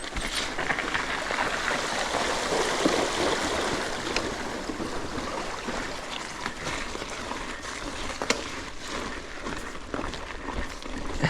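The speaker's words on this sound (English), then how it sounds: "Okay, we got a creek crossing here." Steady broadband rush of flowing creek water as a bike rolls through a trail creek crossing, loud and close throughout with faint splashy ticks and no talking.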